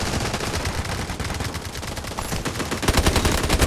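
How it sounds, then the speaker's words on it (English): Rapid, dense bursts of artillery explosions and gunfire from the video game Delta Force Mobile, loud and continuous throughout, with heavier impacts swelling near the end and no talk. "Requesting artillery barrage!"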